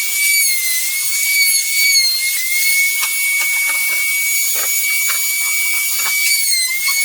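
A trim router or plane chamfers the edges of a wooden wall shelf, giving a steady, close, high-pitched whine with a run of small clicks and ticks through the second half and no talking.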